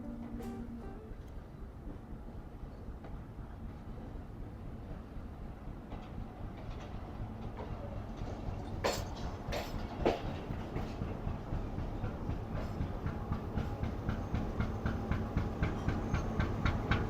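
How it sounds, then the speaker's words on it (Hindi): Brakeman's coach rolls toward the back of a Mohen Jo Dar passenger train on a foggy winter morning, with a steady low rumble and rhythmic clicking of wheels that grows gradually louder and more pronounced as it draws closer. "तो ये सामने से ब्रेकमैन का कोच आ रहा है ट्रेन की बैक साइड पर लगने के लिए।"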